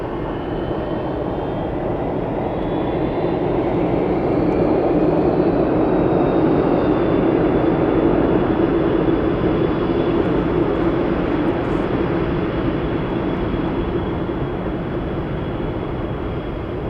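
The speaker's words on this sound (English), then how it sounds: "We also have the UPS 747 we looked at earlier on the move." A UPS Boeing 747 freighter taxis at Anchorage airport, its jet engines a steady broad roar with a faint high whine, heard from a distance and unbroken for the whole stretch.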